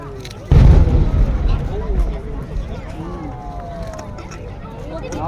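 A fireworks display in Ashikaga, Japan, with one heavy boom followed by crackling and fading rumble that carries on at a distance, under faint background voices.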